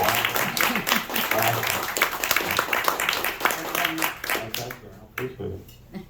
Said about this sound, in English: Let's give a round of applause for Sam.